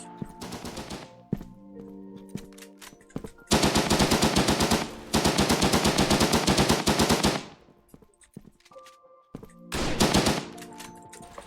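Gunfire in the online shooter Frontline Inferno: long, loud bursts of rapid automatic fire broken by short pauses, with a few quieter single shots between the bursts.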